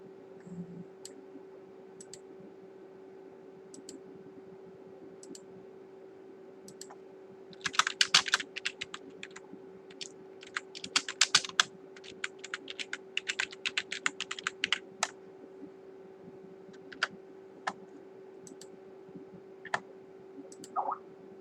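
Computer keyboard typing during a livestream setup, sparse isolated key clicks at first, then a dense burst of quick keystrokes, tapering back to scattered taps over a constant low electronic hum.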